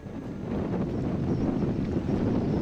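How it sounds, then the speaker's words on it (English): Strong wind roars steadily at sea, a dense, low buffeting rush that builds slightly and stays loud throughout, with no voices. "The wind just keeps getting stronger and stronger."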